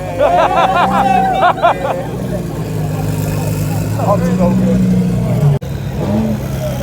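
Lamborghini Huracan supercar engine running at a car meet, a low steady idle rumble under crowd chatter and nearby voices.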